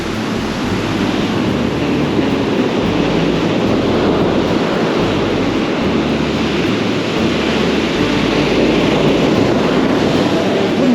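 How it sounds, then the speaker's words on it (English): Big ocean waves surging and breaking on a beach during surf fishing, a loud continuous wash of broadband roar with steady rumble and no voices. "These waves are actually picking up. There's some quite big ones here. Big sets coming through."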